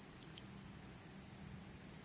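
Steady high-pitched crickets chirping without pause, loud and close, holding an even drone for the whole stretch alongside a faint low rumble of background noise.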